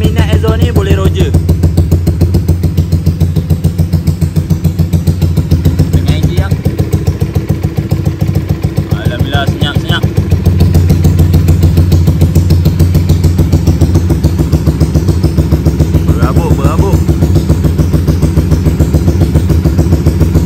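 A Yamaha Y15 motorcycle with an aftermarket exhaust idles steadily nearby, a continuous low engine rumble that swells slightly partway through, with brief voices talking over it.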